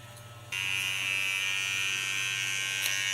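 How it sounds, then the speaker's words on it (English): An electric hair clipper trims a short asymmetric pixie cut on platinum blonde hair, its steady, close motor buzz switching on after a brief moment of quiet and holding evenly to the end. "And then I go to my clipper and work out the line."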